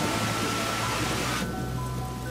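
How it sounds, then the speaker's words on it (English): Heavy rain pours down steadily as hail gives way to a downpour over an outdoor castle site, a dense continuous hiss of water that stays loud throughout, with the brighter top end easing slightly partway through. "the hail quickly turns into a downpour"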